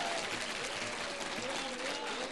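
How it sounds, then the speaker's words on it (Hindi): An audience applauding together at a Holi comic poetry gathering, producing a steady, dense wash of clapping that continues without a break, with voices mixed in beneath it. "ताली बजाओ एक बार मिलके"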